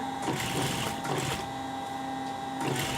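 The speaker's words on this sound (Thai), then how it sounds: "มอเตอร์จับดังหน่อยนะ" A sewing machine motor runs while stitching a round collar, a steady mechanical whir with rhythmic needle clatter that swells and eases in bursts, close and fairly loud with no talk.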